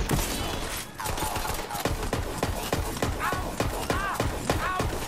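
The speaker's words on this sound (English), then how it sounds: "This gun shoots kind of slow. The fire rate is very slow." Gunfire in Borderlands 3 from a slow-firing gun, a string of spaced shots amid busy game action with dense layered effects and no talk.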